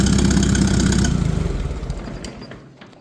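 Ford 960 tractor engine idling with a newly fitted muffler, a steady loud low rumble for about a second before it winds down and fades as the engine is shut off.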